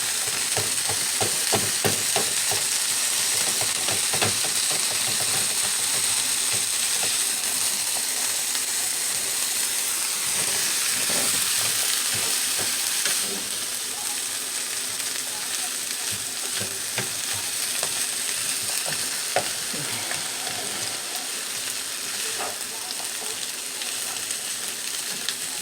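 Ground beef sizzles and fries steadily in a pan in a home kitchen in Puerto Morelos, Mexico, while a utensil chops and stirs it with repeated scraping taps, loud and close throughout with no talk.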